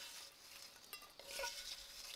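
Bacon is tipped into a camp cooking pan and stirred, giving a faint sizzle with soft scraping and clinks of a utensil over a couple of seconds.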